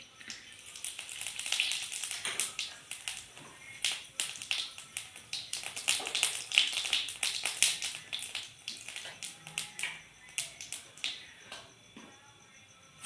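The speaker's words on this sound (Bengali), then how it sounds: "তেল গরম হয়ে গেছে, এইখানে আমি দিয়ে দেবো এবার গোটা জিরে।" Whole cumin seeds frying in hot oil for a Rajasthani curry, a dense steady run of crisp popping and crackling with many small rapid taps, fairly close, with no talk over it.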